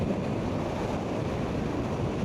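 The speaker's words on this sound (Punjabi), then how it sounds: "ਇਹ ਨਾਲ ਦਰਿਆ ਚੱਲ ਰਿਹਾ" A river flows close by in Japan, a constant broad rushing roar, loud and unbroken, partly mixed with wind buffeting the microphone.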